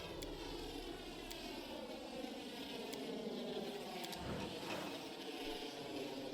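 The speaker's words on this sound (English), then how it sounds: "the bug where these armies, when they're moving around, just constantly stack the army moving noise" Stacked army movement sounds from the Pathfinder: Wrath of the Righteous video game form a continuous, droning roar like a landing airplane, with overlapping whooshing layers and faint clicks, steady throughout with no talking.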